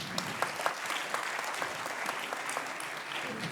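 Audience at an industry round-table event applauds the panel guests with a continuous, moderately quiet wash of clapping, a few individual claps popping out, no talking over it.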